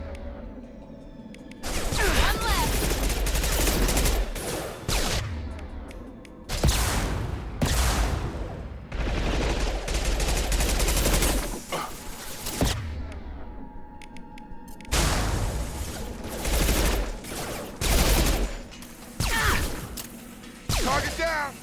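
Bursts of gunfire in the video game Mass Effect 2 crackle in loud, dense volleys separated by short pauses, with other battle effects and a voice talking in between.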